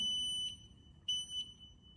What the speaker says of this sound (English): At the moment, the reverse beep sound is on.